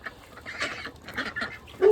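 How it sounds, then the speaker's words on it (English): Several farm ducks quack as they are let out, a cluster of nasal honking calls close by, irregular and overlapping, rising louder toward the end. "All right, let's release the ducks."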